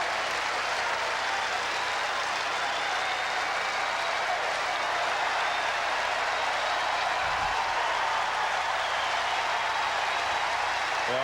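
A large tennis crowd at the 2003 US Open, during the Ferrero versus Agassi match, applauds in a steady, dense roar of clapping that holds at full strength the whole time.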